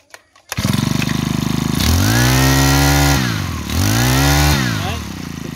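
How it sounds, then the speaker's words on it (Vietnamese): A Japanese brush cutter's small two-stroke engine runs loud and close, revving up and easing off twice in smooth rising and falling surges over a steady idle. "Máy chạy cực kỳ êm mà ra một lúc lâu cũng không có một cọng khói nào luôn."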